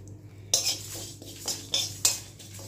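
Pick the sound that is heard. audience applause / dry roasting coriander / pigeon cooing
dry roasting coriander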